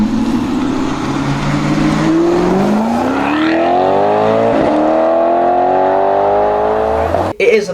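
A 4.7-litre naturally aspirated V8 in an automatic supercar with 454 horsepower revs loudly and continuously, its pitch climbing and settling through a long sustained rise before cutting off abruptly at the end.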